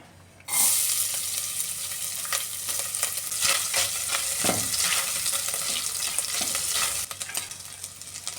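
Grated coconut hits hot ghee in a pressure cooker with a sudden loud sizzle that holds steady and close, broken by occasional stirring scrapes, then drops away near the end.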